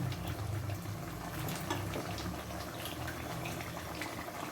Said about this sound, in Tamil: நல்லா நண்டு வெந்துக்கிட்டு இருக்குது